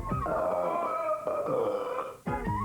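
A loud, drawn-out belch from a woman, one long resonant croak lasting about two seconds, then a short second burp right after, close and clear.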